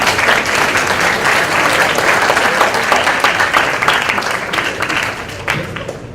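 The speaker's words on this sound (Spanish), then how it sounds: "Recibámoslo con un fuerte aplauso." A lecture audience applauds a speaker at a talk, with steady, dense clapping from many hands sustained throughout and slowly fading near the end.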